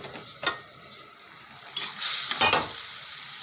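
Potatoes frying in a pan are stirred, giving quiet scraping turns and a couple of louder sizzling stirs close by, with no talking.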